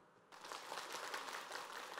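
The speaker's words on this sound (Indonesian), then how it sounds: "Tepuk tangan dulu." Crowd applause starts abruptly and continues as an even patter of many hands, faint and distant.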